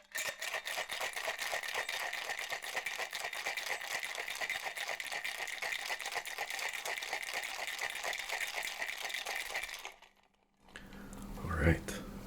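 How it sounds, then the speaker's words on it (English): A cocktail shaker packed with ice is shaken hard for about ten seconds, a dense, continuous rhythmic rattle of ice against the tin, stopping abruptly and followed by a brief quiet handling noise. "seal everything up here and give it a good shake."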